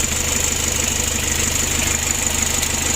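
A worn Mitsubishi L300 diesel engine idles close up with a rough, rapid knocking rhythm over a steady low drone, loud and unbroken throughout.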